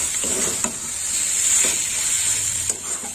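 A snake gourd vegetable curry (chichinga chorchori) bubbling in a pan gives a steady close hiss and sizzle, broken by a couple of faint soft knocks, with no voices.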